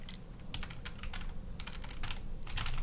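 Steady, rapid keyboard typing with clustered clicks and brief pauses, close and fairly quiet, with no voices.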